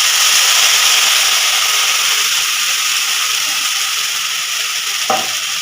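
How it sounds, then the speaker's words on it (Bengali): Wet paste of green chili, garlic, ginger, cumin and onion hits a hot pan, giving a loud, steady frying sizzle with stirring throughout, and a brief scrape near the end. "এখন আমি কাঁচা লঙ্কা রসুন আদা জিরে আর পেঁয়াজের পেস্টটা দিয়ে দিচ্ছি"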